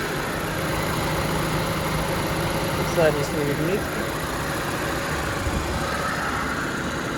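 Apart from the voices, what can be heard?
car engine idling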